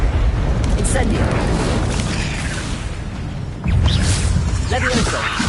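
The Incendio fire spell in Hogwarts Legacy bursts out as a loud, rumbling whoosh of flame. A second booming burst follows partway through, under a voice calling out spells.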